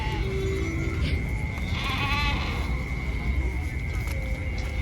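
Goats bleat at a busy livestock market, with large goats brought in from Kushtia. Short bleats rise over a constant crowded din, and voices can be heard in the background.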